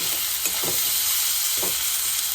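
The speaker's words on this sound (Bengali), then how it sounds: "ওই টমেটোটা দিয়ে দিচ্ছি দিয়ে ভালো করে নাড়াচাড়া করে একসাথে মিশিয়ে নেবে" Chopped tomato stirred into a frying fish curry with bottle gourd, with a constant loud sizzle and a few soft stirring scrapes, close up.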